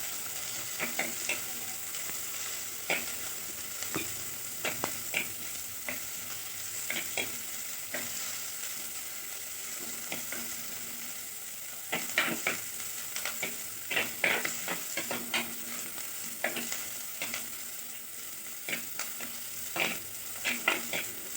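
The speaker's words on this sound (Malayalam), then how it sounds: "ചെറിയ ഉള്ളി ഒന്ന് ചുവന്ന് വരുന്നത് വരെ ഇളക്കി കൊടുക്കുക." Finely chopped small red onions (shallots) sizzle steadily in a pan, with a spatula stirring and scraping in irregular bursts throughout; close and moderately loud, no voices.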